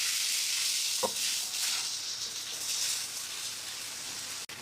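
Ginger paste sizzles in hot oil while being stirred for a desi chicken and potato curry, a continuous crackling fry with a couple of soft spoon knocks.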